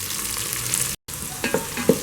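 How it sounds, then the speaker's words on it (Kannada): Okra sautés in a pan on a Geek Robo Cook automatic cooker, making a close, steady sizzle broken by a brief dropout and a few clinks from the stirring. "ಬೆಂಡೆಕಾಯಿ 1-2 ನಿಮಿಷ ಸಾಟೆ ಮಾಡ್ಕೊಳ್ಳೋಣ"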